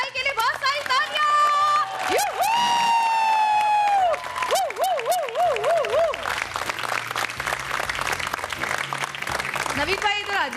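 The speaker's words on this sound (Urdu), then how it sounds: "نوید ارشد بھائی کے لیے بہت ساری تالیاں." Studio audience at a Ramadan iftar TV show bursts into loud, sustained applause and cheering that runs throughout, mixed with bright musical jingle tones and whistle-like glides.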